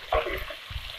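Silkworms frying in oil in a pan, a steady close sizzle with some louder bursts as they are stirred.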